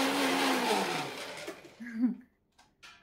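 A kitchen blender grinds a shake mix, its loud motor whine holding steady for about a second before winding down and sputtering out, followed by a few faint clattering knocks in the quiet.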